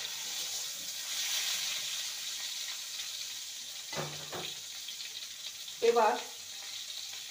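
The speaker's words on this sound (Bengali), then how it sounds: "সবজিগুলোকে ভালো করে ভেজে নিয়েছি।" Vegetables with chopped tomato and green chilies frying in a pan for sago khichdi, a steady soft sizzle with a couple of louder stirring scrapes, while someone speaks briefly.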